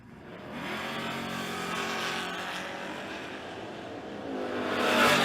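A Ford Mustang drag car launches at a drag strip, its engine roaring loud and steady as it accelerates away, then building again toward the end, with no talk over it.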